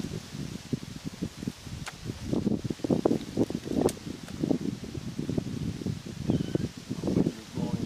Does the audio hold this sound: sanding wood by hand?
no